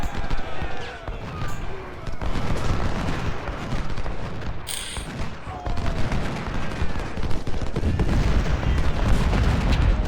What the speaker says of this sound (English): The howitzers should inflict some real damage.